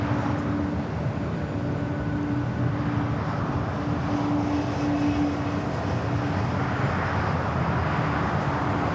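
Alaska Airlines flight 1315 jet taking off from runway 25R at LAX, a steady broadband engine roar with a faint tonal whine, continuous and fairly loud throughout, with no voices.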